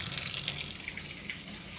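Hot water pours from a kitchen tap into a sink, a steady, faint hiss of running water with no one speaking.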